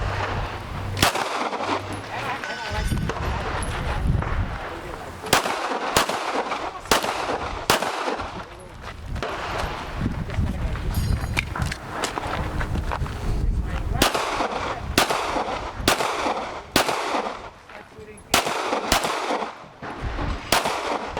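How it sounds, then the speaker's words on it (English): Pistol shots crack out at an outdoor IPSC practical shooting match, a long series of sharp, loud reports in quick strings and pauses, with voices talking between some of the shots. "Let's fire again because I missed it."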